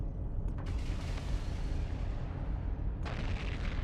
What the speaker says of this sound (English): I am using auto-targeting missiles